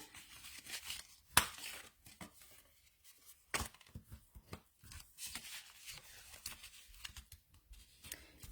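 Paper being folded and creased by hand to make the lid of a birdhouse-shaped box: quiet scattered rustles and crinkles, broken by two sharper crackling snaps, close by with no voices.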